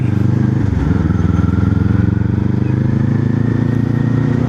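Kawasaki Z400 motorcycle engine idling steadily close by, a loud, continuous low rumble with a slight rev change about a second in and no talk over it.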